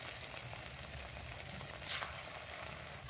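Semolina sweets fry in oil over low heat, a faint, soft sizzle with light bubbling and one brief louder crackle partway through.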